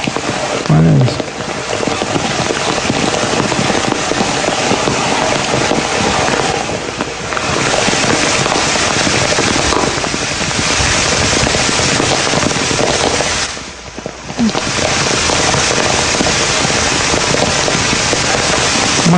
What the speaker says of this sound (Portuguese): Uma chuva tropical, gente.